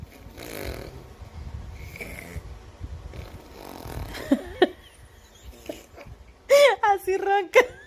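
A person imitates snoring with a short run of loud, rasping snorts near the end, after quieter talking between people.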